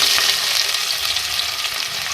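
Sliced medium onions fry in hot oil, giving a loud, steady, close-up sizzle that hisses evenly throughout with no voices.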